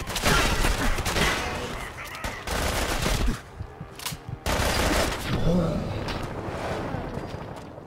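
Video game gunfire from Fallout 4 erupts in loud rapid bursts with a brief lull, mixed with shouted robotic speech and game voices.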